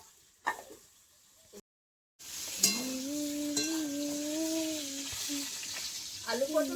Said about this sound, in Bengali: আলু পটল প্রায় ভাজা হয়ে এসছে